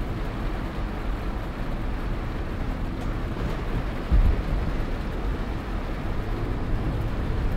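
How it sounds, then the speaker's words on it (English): Simulated rain in the video game Tourist Bus Simulator, a steady muffled hiss and low rumble under a bus engine drone, with one brief thump partway through. "Yeah, I do like the rain effects though."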